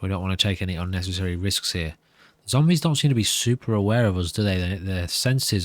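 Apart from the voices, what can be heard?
No everyday noises stand out.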